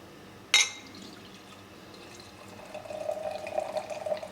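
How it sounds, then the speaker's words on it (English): Belgian-style saison beer pours into a glass, opening with a sharp clink and then a soft, building stream of liquid and fizz, quiet and close. "You should pour Saisons, Belgian type beers are traditionally poured with a giant head."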